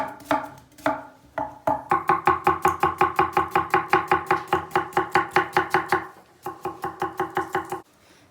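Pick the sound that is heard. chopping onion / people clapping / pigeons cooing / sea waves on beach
chopping onion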